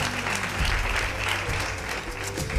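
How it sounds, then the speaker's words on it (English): Audience applause fills a hall at the 2018 Anzisha Prize awards gala, a steady, dense clapping that holds at an even level throughout with no talk over it. "So a round of applause for Polo in absentia."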